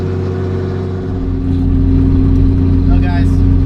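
A Ford Mustang fitted with new Team Z front control arms drives along, its engine a steady, loud mid-pitched drone with low rumble that rises slightly partway through, heard up close from inside the car.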